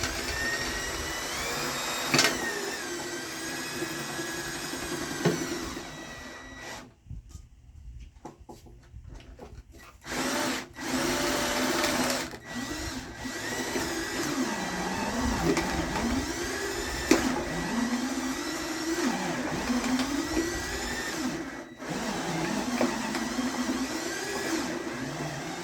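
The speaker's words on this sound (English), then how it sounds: "I take my electric drill and I put it battery operated drill" A battery-operated electric drill churns apples into pulp for juice, its motor whining in steady bursts with shifting pitch, pausing briefly near the middle before grinding on close and loud throughout.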